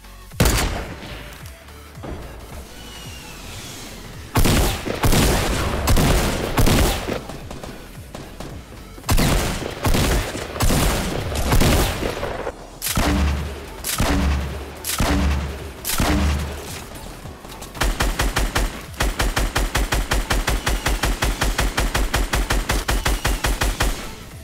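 Loud Fortnite gunfire comes in repeated bursts of heavy shots and rapid automatic volleys, separated by brief gaps, with booming thuds mixed in and a long fast stream of shots near the end.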